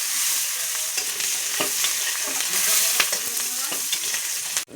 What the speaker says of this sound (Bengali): একটু পেঁয়াজটা ভাজা করে নেব।